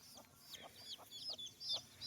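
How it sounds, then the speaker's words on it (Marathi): Free-range desi hens foraging outdoors among paddy straw in the morning give soft, intermittent clucks in short bursts, fairly faint and alone with no talking. "येथेच आपल्या कोंबड्या मस्तपैकी रमलेल्या आहेत"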